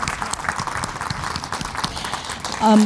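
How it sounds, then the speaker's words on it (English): Audience applause at a regional chamber of commerce leadership forum in Harrisburg, Pennsylvania: steady, moderately loud clapping from a crowd that runs the whole stretch, with a short voiced sound rising near the end. "let's give them another round of applause"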